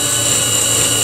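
A cordless drill grinds steadily and close up into wooden beams for a model railway layout, one continuous loud burst with no voices.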